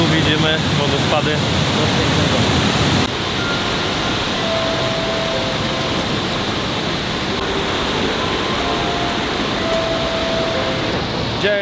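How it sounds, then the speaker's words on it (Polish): Niagara Falls thundering right beside the listener from below the falls: a dense, steady roar of crashing water fills the whole clip, heaviest during the first three seconds before easing slightly and continuing unbroken. "Także tu widzimy wodospady."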